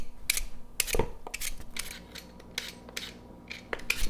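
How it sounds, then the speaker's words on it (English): Apples are peeled, cored and sliced by hand with a knife, giving irregular close crisp cutting and scraping sounds with occasional light clicks and taps, no talking. "go ahead and just peel, core, and slice these by hand"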